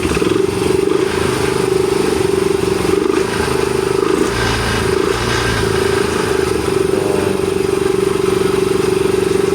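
Yamaha Mio i 125 scooter engine running loudly up close, a steady buzzing idle with a rough, noisy mechanical clatter and slight rises in pitch, no talking.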